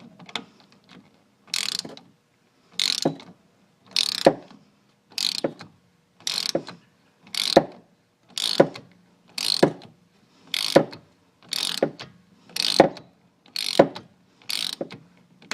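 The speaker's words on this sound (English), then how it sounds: "You just keep turning that so it screws in the whole way" A tool being turned to screw a disc brake caliper piston back in, producing about a dozen evenly spaced bursts of ratcheting clicks, close and crisp, each about half a second long with short pauses between.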